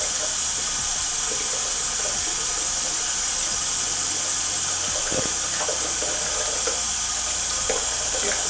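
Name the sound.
hot water running from a tap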